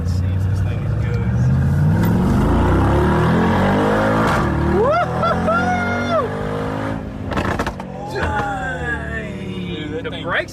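A 2022 Mercedes G63 G Wagon roars with its exhaust valve open, the engine revving and accelerating hard as it pulls away, loud and close, while people talk and exclaim over it.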